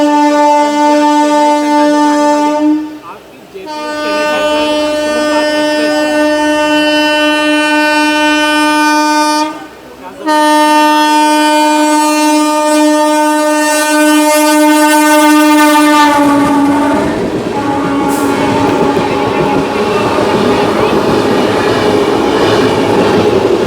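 A Dakshin Superfast Express train climbing an incline sounds a loud, sustained horn in long blasts with short breaks, followed by rumbling and clattering wheels as it passes close by.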